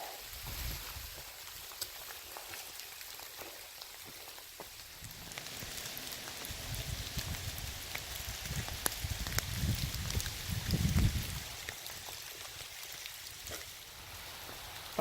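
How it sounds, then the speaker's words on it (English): Light rain patters steadily on a surface on a forested ridge in Shenandoah National Park, soft and constant, with a low rumble of wind swelling through the middle. "it's raining a little bit"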